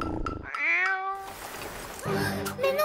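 A cat meows several times in a row, clear and close, with falling and rising tones and a slightly strained, drawn-out cry in the middle, loud against a quiet room.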